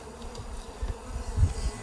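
Bees flying around a beehive, giving a soft, wavering buzz that swells and fades in low pulses, fairly faint and close.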